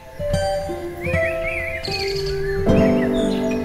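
Several birds chirp and whistle in a quiet forest on the trail to a limestone cave in North Andaman, with varied calls and a crow-like caw overlapping steadily and fairly close.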